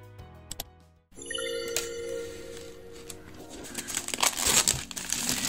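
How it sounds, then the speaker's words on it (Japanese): Packaging for a COMICA Vimo S wireless microphone crinkles and rustles up close as the box is opened, with a short musical tone at the start and the handling noise growing busier toward the end. "では早速開封の方を行ってみたいと思います。"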